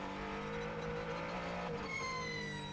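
A race car engine in the FIA World Endurance Championship drones at steady high revs, its pitch wavering and dipping as it struggles with its hybrid system, before a higher whine rises near the end, with no talking.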